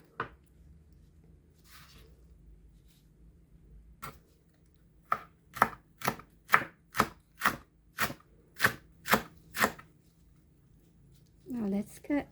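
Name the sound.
knife chopping vegetables into thin slices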